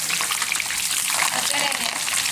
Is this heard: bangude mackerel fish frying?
yes